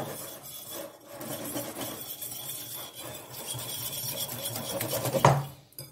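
Rice vinegar being mixed into a chicken salad dressing with a whisk or spoon in a bowl, a steady close rasping and rubbing with light clinks, ending in a sharper scrape.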